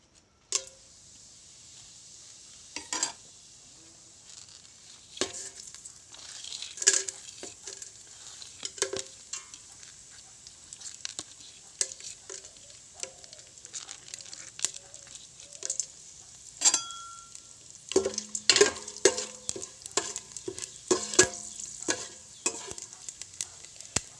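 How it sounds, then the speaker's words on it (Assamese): Bay leaves and whole spices fry in hot oil in a kadai, a soft sizzle beneath repeated sharp scrapes and taps of a spoon stirring, close and fairly quiet, with no talking. "এতিয়া মই কেৰাহী এখনত তেল গৰম কৰি লৈছো আৰু তাতে মই এতিয়া তেজপাত দুখিলা আৰু বাকি গোটা মছলাখিনি যোগ কৰিম।"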